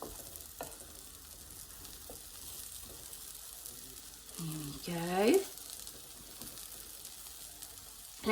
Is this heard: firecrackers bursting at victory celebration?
no